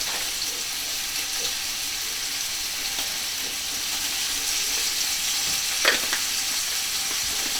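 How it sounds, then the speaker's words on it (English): Beef sizzles steadily in a pan on medium-high heat while it is stirred, a continuous bright crackle with a few louder scrapes near the end, no voices. "And then you're just stirring it."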